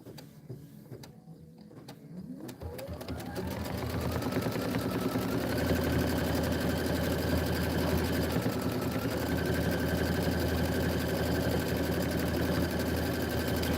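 Steady, continuous stitching from a sewing machine with a metal needle, picking up speed in the first few seconds and then running at an even, unbroken whir, close and alone without pauses.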